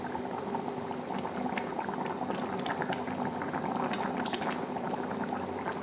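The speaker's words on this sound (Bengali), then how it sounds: "এবার আলু আর মাছটা সেদ্ধও হবে ভালো করে" Fish and potato curry boiling in gravy in a pot, a steady close bubbling and simmering that continues throughout with no speech.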